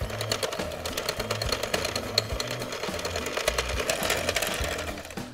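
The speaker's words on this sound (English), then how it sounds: "And I'm going to cream it on a low speed with my hand mixer." Hand mixer on low speed creaming butter, cream cheese, sugar and vanilla extract in a bowl, with a steady motor whir that pulses rhythmically as the beaters churn the mixture. No one talks.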